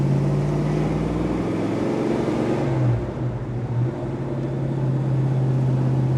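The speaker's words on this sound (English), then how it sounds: "Exhaust sounds incredible." A 1967 Chevrolet Chevelle SS convertible with a 4-speed Hurst shifter cruising, its exhaust giving a deep, continuous burble that dips and shifts in tone partway through, with steady road and wind noise and no voices.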